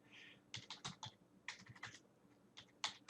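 Quick bursts of clicky keystrokes on a computer keyboard, irregular clusters of taps with short pauses between them, close and fairly quiet with no talking.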